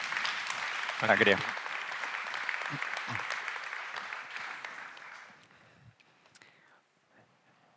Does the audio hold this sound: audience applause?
yes